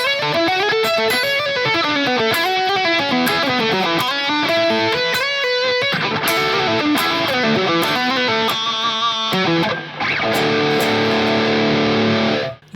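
Dry electric guitar straight through a NUX MG-30 multi-effects unit, no delay or reverb, playing a continuous riff of chords and single notes that stops abruptly at the end.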